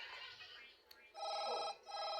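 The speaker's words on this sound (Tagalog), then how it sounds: "What sound does a phone make?" A phone ringing sound plays in two electronic bursts separated by a short gap, clear and fairly close, following a stretch of softer hissing noise in a room.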